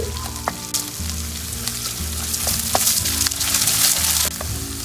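Ginger and garlic hit hot oil in a pan for a chickpea and potato curry, giving a bright continuous sizzle with a few clinks of the spoon and a low appliance hum beneath, no one talking.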